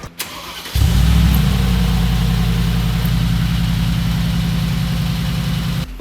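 A 2020 Mercedes-AMG G63 with side-exit exhausts fires up with a sudden loud bark after a brief quiet moment, then settles into a steady, deep, rumbling idle that continues close and unbroken to the end.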